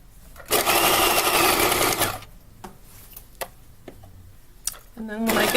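Sewing machine stitching muslin fabric for a tote bag, a loud steady motor whir for about two seconds, then pauses with small clicks and handling noises before stitching resumes at the end.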